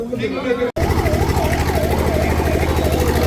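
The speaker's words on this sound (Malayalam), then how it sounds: "ആംബുലൻസ് അങ്ങനെ പോയിക്കൊണ്ടിരിക്കും." A loud ambulance siren sweeps up and down in a steady, repeating cycle close by at a jallikattu bull-taming event in Madurai, following a brief burst of voices that cuts off sharply.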